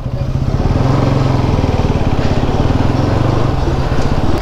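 A motorcycle engine runs steadily and loudly on a solo highway ride, a continuous close throbbing drone with no pauses and no talk.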